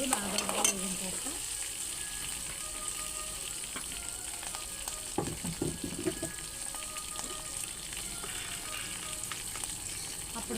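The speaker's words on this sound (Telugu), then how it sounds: "పల్లీలు పచ్చిమిర్చి బాగా వేగాలండి" Peanuts and green chillies fry in oil in a pan, a continuous close sizzle broken by brief stirring scrapes and clatters near the start and middle, with no speech.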